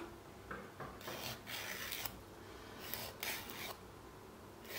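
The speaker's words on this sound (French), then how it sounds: "limer gentiment" A nail file with soft 180 grit gently rasps along a fingernail's free edge during a manicure, giving several short, soft strokes in an uneven rhythm, close and faint with no voices.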